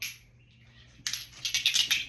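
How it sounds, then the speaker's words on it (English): Dice tumble across a board during a tarot-style reading, a quick burst of sharp hard clicks and clatters after a quiet moment, fairly close and alone. "Turn the volume down, please, because the dice are loud."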